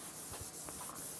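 A board is wiped clean of writing in a short burst of soft, rhythmic rubbing and hissing strokes, close and steady, with no talk.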